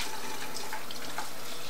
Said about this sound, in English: I'm just going to use the sink with water and filling the syringe with water and dumping it out.